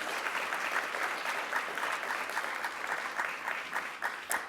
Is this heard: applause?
yes